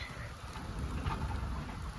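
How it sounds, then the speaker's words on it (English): Heavy rain pours down outdoors at a horse event, a steady dense hiss of drops with a low rumble, loud and continuous with no talk. "just as I decide to ride, it absolutely poons it down"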